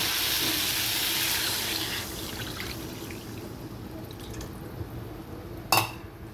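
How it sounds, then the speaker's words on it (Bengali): Water pours into a pan of fish curry made with pangas fish, ridge gourd and potato, a steady close splashing rush that fades and thins, ending with a short clatter. "এবার আমি জল দিয়ে দেবো।"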